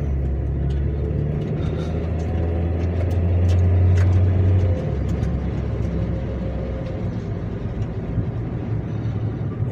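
Steady low engine and road rumble from a 2005 Scion xB being driven, a continuous near drone with a louder swell midway and faint cabin noise, no talk heard.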